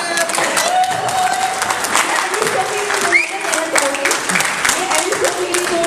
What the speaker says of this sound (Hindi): ताली जोरदार तालियां।